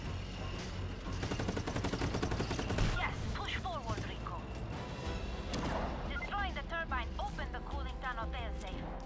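Airstrike explosions and heavy gunfire in Just Cause 3, dense booming volleys and rattling bursts layered with game music and a person talking over the chaos.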